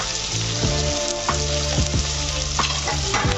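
Onion, carrot, cabbage, capsicum and green chilli stir-fried over high gas for veg noodles give a loud, steady sizzle, broken by repeated scraping spatula strokes in the pan.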